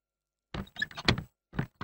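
In a Hindi film scene, a door is shut with a few heavy wooden thunks and rattles in quick succession, fairly close, following a moment of silence.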